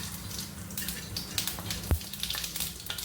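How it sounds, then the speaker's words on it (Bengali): Whole cumin seeds tempering in hot oil, a steady crackling sizzle with scattered pops and a soft thud near the middle, close and continuous, no voices. "এবার আমি তেলে গোটা জিরে ফোড়ন দিচ্ছি"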